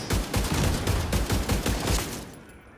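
The Merciless exotic fusion rifle in a video game fires a rapid burst of booming shots in quick rhythmic succession, loud and close, then tails off at the end.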